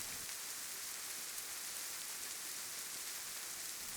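Soft, steady rain plays as a quiet background ambience beside a needle-felting craft session, an even hiss of falling drops with no voices or other sounds over it.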